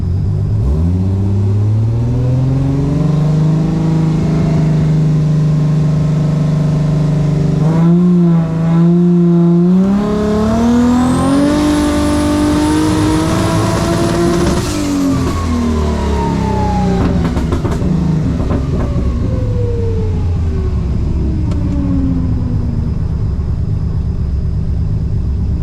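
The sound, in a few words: turbo Ecotec V6 engine revving on a run, with misfire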